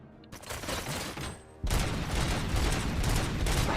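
Dense, continuous automatic gunfire from the Robocop video game, a steady rattling fusillade that grows louder and heavier about halfway through and keeps going to the end.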